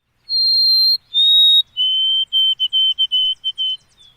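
White-throated sparrow song: a clear, pure whistled phrase of two long high notes followed by a string of shorter repeated triplet-like notes, loud and close with no other sounds.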